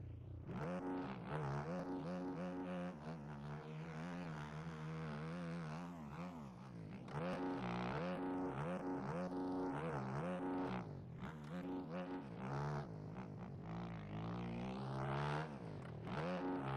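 Dirt bike engine in MX Bikes held in third gear, revving and pulling at low RPM, its pitch rising and falling with throttle changes, steady and continuous, heard from the rider's position with no talk.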